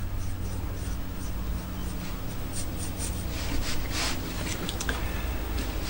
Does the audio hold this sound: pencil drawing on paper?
yes